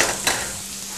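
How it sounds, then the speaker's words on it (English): Mushrooms and onions sautéing in olive oil in a pan, a steady close sizzle with a brief stir or scrape near the start, no talking. "I'm just going to throw the mushrooms in. Got a little bit of olive oil in there and some onions."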